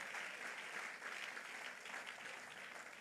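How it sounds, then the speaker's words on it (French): A church congregation gives sustained applause during a Sunday service, a steady, dense wash of clapping heard at a distance throughout. "Acclamons le Seigneur ensemble."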